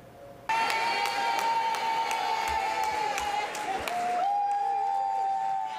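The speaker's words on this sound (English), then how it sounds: "Annie Burns Hicks was greeted with rousing cheers and applause in a crowded auditorium" A crowd cheers and applauds loudly and steadily in a crowded auditorium, the roar continuing without a break throughout.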